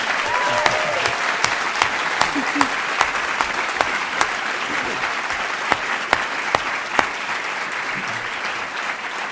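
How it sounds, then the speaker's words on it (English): Audience applause fills a hotel hall during a Utah Republican gubernatorial debate, a steady wash of clapping from a sizable crowd that holds for the whole stretch, with sharper individual claps popping out here and there. "I think we need to acknowledge that we have a sizable crowd here by having them give everybody a round of applause"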